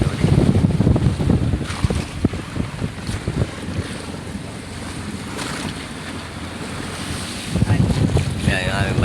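Strong wind buffets the microphone while big waves crash and wash around a fishing boat at sea, a loud, rough roar that swells and eases throughout.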